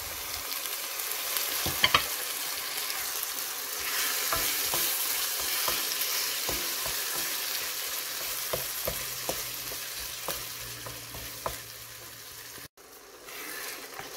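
Tomatoes and onions sizzle steadily in a pan with olive oil as a spoon stirs through them, giving a constant frying hiss with scattered scraping clicks, close and moderately quiet.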